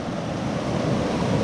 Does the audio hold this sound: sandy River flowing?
yes